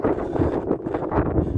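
Strong, blustery wind buffets the microphone in continuous roaring gusts on an exposed Brecon Beacons hillside in cold, hail-laden weather.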